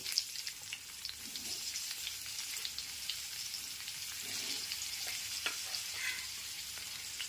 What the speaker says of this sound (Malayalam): പാത്രത്തിൽ വെളിച്ചെണ്ണ ഒഴിച്ച് ഇഞ്ചിയും വെളുത്തുള്ളിയും വേപ്പിലും ഇട്ടിക്കുകയാണ്